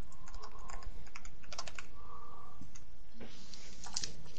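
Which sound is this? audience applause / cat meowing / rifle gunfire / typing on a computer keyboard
typing on a computer keyboard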